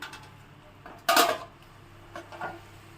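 A metal pot lid is set down on a pan of prawn and egg curry, giving one sharp clatter with a short rattle, then two softer clinks of metal a moment later, close and alone.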